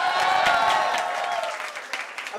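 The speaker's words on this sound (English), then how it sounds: "Can we please have a huge round of applause for her once again?" Sustained applause from a crowd at a promotional event for a song and the film Atrangi Re, dense and steady throughout, thinning slightly toward the end.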